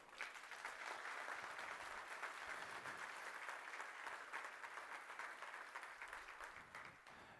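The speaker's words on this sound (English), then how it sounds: "So give them all a big applause." Steady applause from a large crowd at a conference summit continues throughout, dense and even, heard from some distance.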